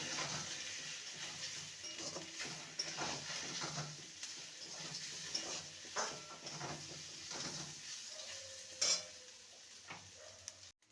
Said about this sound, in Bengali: কচু আর আলুকে খুব সুন্দর করে ভেজে নিয়েছি